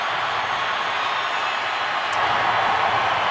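A stadium crowd roars for Peyton Manning taking the field with the Denver Broncos, a dense, steady wash of cheering that swells slightly near the end, loud and continuous.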